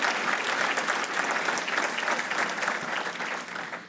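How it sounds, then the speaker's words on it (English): Audience at a public safety awards ceremony clapping for the event's sponsors, a dense, loud, steady round of applause from a large indoor crowd that fades slightly at the end. "How about a big round of applause for all of our sponsors?"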